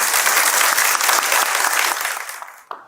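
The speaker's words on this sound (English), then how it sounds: "Please, a round of applause to them." A studio audience at a comedic cooking contest applauds loudly and continuously, then the clapping thins and fades out near the end.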